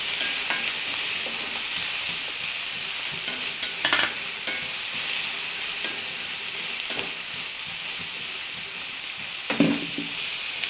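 Two large chopped onions sauté in a pan of oil with fennel, cinnamon and cloves for a coconut milk kurma, giving a continuous close hiss broken by a few scraping stirs of a spoon.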